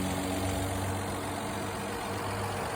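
A Holden 48/215 car engine idles steadily at the roadside, a continuous low rumble with even harmonic tones throughout, fairly close and alone with no talking.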